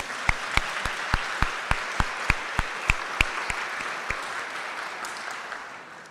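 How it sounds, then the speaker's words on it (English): Steady applause from a crowd, with sharp rhythmic claps standing out over the dense clapping, gradually fading toward the end. "a round of applause, please."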